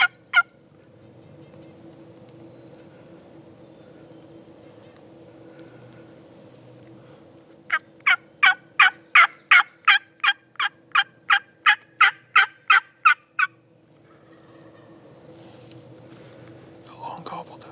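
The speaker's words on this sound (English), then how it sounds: "A long gobble down." A wild turkey gobbles at a hunting camp: a long rapid series of throaty gobbling pulses, fairly clear and moderately distant, preceded and followed by quiet whispering voices.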